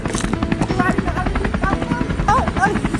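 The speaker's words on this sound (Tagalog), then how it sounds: "May helicopter!" Rhythmic chopping thrum of a helicopter flying overhead, steady and fairly loud, with people talking and exclaiming over it.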